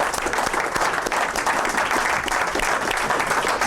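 A church congregation breaks into loud, sustained applause, dense clapping filling the room steadily throughout.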